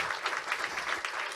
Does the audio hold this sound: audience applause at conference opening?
yes